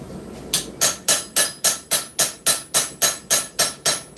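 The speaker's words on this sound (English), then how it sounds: "Back into the planishing." Planishing hammer on metal at a forge: steady series of sharp metallic blows, about thirteen evenly spaced strikes, loud and close with ringing bright edges, no voices.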